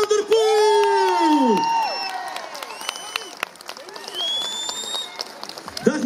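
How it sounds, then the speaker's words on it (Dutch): Crowd at the Roeselare criterium presentation in 2024 greets world champion Mathieu van der Poel with clapping, whoops and shouted cheers under a loud announcer's voice, swelling at the start and continuing fairly near. "mag ik u applaus voor wereldkampioen Mathieu van der Poel"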